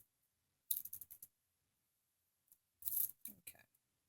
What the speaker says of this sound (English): I'm just using my scissors to get the look that I need here